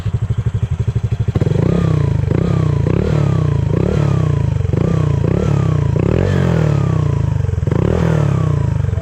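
A Honda Click V3 scooter fitted with a JVT exhaust pipe runs loud and close, starting from a lumpy idle and then revving repeatedly in steady throttle blips with a raspy, sustained engine note and no talking.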